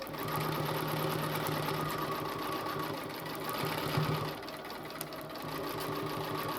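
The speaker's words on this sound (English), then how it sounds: "I'm going to stitch in the ditch here very carefully." A sewing machine runs steadily while stitching in the ditch on a small quilted oven mitt, a moderately quiet, even mechanical whir with a slight dip midway.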